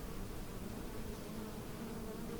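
A constant low drone of buzzing bees, steady and fairly faint, with no pauses or voices over it.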